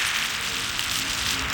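Steady rain falls on surfaces in a dense, even hiss, loud and continuous with no voices.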